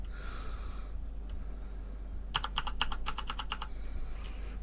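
Quick bursts of typing on a computer keyboard, about ten crisp keystrokes in a fast run near the middle, with a few isolated taps before it, over a steady low background hum.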